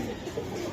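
Young pigeons at a market stall, their soft cooing murmuring steadily and close for a brief moment, with faint background bustle.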